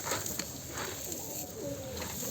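Pigeons coo softly and steadily nearby over a faint background hiss, with no talking.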